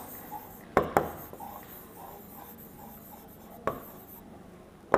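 Pen strokes on a surface during a surveying lesson, heard as a few sharp, close scratching taps clustered early and again later, with faint soft rubbing between them in a quiet room.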